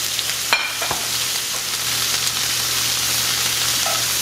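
Shrimp sizzle as they fry in a hot pan, a steady, close hiss with a few brief clicks and pops near the start and no one talking.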